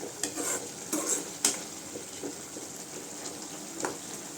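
Mushrooms simmering and being stirred in a pan for a Tamil-style mushroom pepper fry, with soft sizzling under a few distinct scraping clinks of a spoon against the pan near the start and a lighter one later, no voices.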